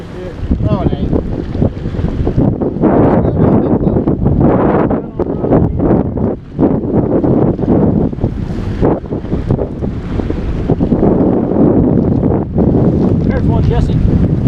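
Strong wind blows over a bass fishing boat on Mark Twain Lake. A loud, constant roar of wind buffets the microphone with gusting surges, and water noise sits beneath it.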